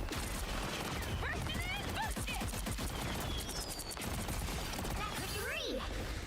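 Crackling, rapid-fire popping bursts from Jubilee's firework-like attack in the video game Marvel Rivals, dense and loud, with whistling zips and game effects layered throughout.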